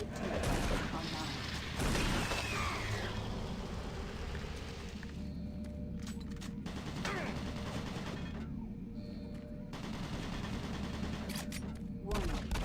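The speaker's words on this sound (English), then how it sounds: "Warning. Automated turret guns online." Automated turret guns in Doom 3 BFG Edition fire in dense, continuous bursts that keep up for the whole stretch, loud and close, with heavy rumbling impacts and a synthetic voice announcing a warning over the barrage.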